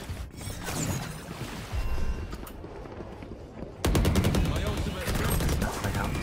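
Rapid gunfire in the shooter Valorant, bursts of automatic shots crackling over a busy game mix, growing denser and louder in the second half.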